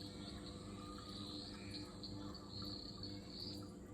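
A steady high-pitched trilling chorus of Eastern Dwarf Tree Frogs, continuous and fairly faint.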